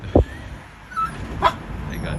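Small dogs riding in strollers on a lively evening street in Yokohama, Japan, give a sharp yip and a few soft whimpers, brief and fairly close, against faint street ambience.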